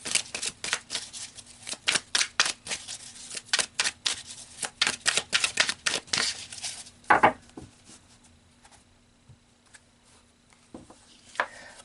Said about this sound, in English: let's pull some more cards here